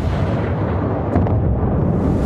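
Dense, booming rumble of heavy warship gunfire and explosions in the video game World of Warships, continuous and loud throughout with no voices.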